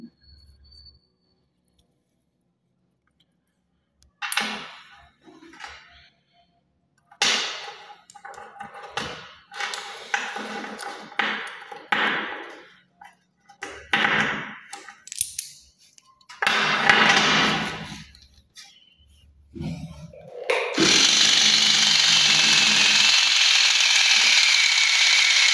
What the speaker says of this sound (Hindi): इस गियर बॉक्स ने इन सारे बैरिंगों को भी बहुत आसानी से खींच लिया है